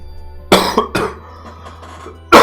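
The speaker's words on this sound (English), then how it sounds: "I still haven't recovered from that cough I've had" A man coughs twice in quick succession, close and loud, then another sharp cough begins at the end, with only faint background hum between.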